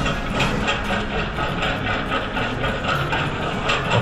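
A John Deere Model G tractor engine plays through a museum speaker, a steady dense rumbling chug with rhythmic pulsing that stays loud and even throughout.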